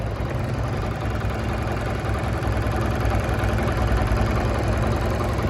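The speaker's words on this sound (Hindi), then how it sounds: "और ये अभी आप इंजन की साउंड सुनेंगे।" A Road Prince motorcycle engine idles steadily at close range, a continuous low rumbling throb with even loudness and no voices.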